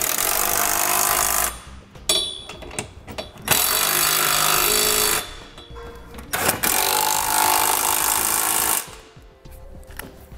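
A power tool with a 17 mm socket snugs down the bolts of a Curt trailer hitch receiver on a 2017 Hyundai Santa Fe, in several loud, rattling bursts of a few seconds each, separated by short pauses.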